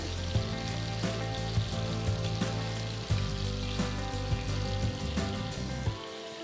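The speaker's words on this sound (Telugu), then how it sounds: "పన్నీర్ ముక్కల్ని తిరిగేసి ముక్కలు అన్ని వైపులా ఫ్రై అయ్యేలా చూసుకోవాలి" Paneer pieces fry in hot oil in a pan, giving a steady, dense sizzle with crackling pops throughout. The sizzle fades out at the very end, and no voice is heard.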